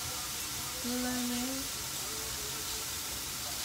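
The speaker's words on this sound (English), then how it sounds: "you hear it sizzling?" Mushrooms sizzle in a frying pan with a steady, broad hiss that runs the whole time, close up, while a voice briefly hums or speaks over it.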